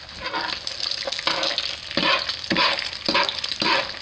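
Sunny side up egg frying in oil in a pan, a continuous crackling sizzle broken by several rhythmic scraping strokes of a utensil, close and fairly loud, with no voices.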